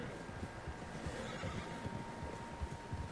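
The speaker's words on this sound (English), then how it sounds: "Horses, quite a few of them." Several horses neigh and whinny from Red Dead Redemption 2, with hooves clopping underneath in a steady, busy outdoor bed of sound that stays fairly even throughout, no voices present.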